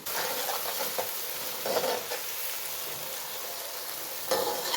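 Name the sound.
garlic and green chillies frying in pan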